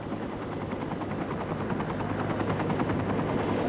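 A medical air-ambulance helicopter runs steadily up close, its rotor chop forming a fast rhythmic beat over a low engine drone that grows slightly louder throughout, with no talking.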